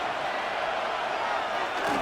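Stadium crowd roaring in an American football video game, a dense, steady wash of cheering that builds slightly toward the end, broad and loud.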